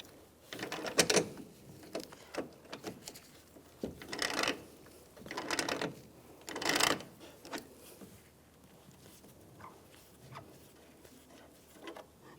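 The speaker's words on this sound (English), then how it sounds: "using some heavier duty locking pliers. Just going to loosen these up." Heavy-duty locking pliers loosen headlight fasteners on a 2004-2009 Toyota Prius, making broadband rattling, gripping and scraping bursts around the first seven seconds, then quieter occasional clicks.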